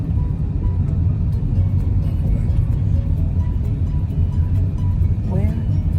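Slow car traffic on the Mississippi River bridge in Baton Rouge, a continuous low road rumble and engine drone heard from inside a vehicle, steady and unbroken, with quiet voices over it.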